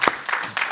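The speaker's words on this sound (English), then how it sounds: "I want to give another round of applause for KJ" An audience applauds at a women's basketball Hall of Fame ceremony, a short burst of clapping that swells in waves, fairly close and loud.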